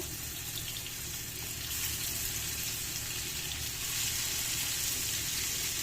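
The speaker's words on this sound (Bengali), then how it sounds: "প্যানে তেল দিয়ে দিলাম মাছগুলো ভেজে নেব" Fish frying in oil in a pan gives a steady, even hiss and sizzle that keeps going throughout at a moderate level.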